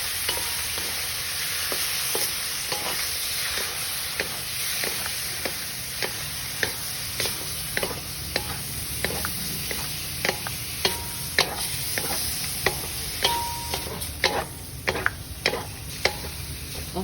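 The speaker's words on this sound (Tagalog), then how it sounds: "I'm gonna try to cook the meat first." Pork for pancit miki guisado sizzles steadily in a hot pan while a utensil stirs and scrapes, sharp rhythmic clacks landing roughly every half second close up, with no talk over the constant frying hiss.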